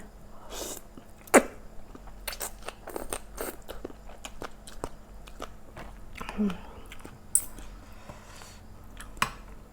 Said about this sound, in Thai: ได้กินเห็ดเพาะ แถวบ้านบ่ค่อยมี